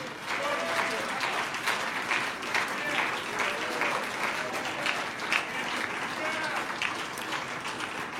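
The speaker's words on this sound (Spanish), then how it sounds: "dele palmas y un aplauso fuerte al Señor" A church congregation claps and applauds loudly and steadily for eight seconds in a dense, unbroken roar of hands.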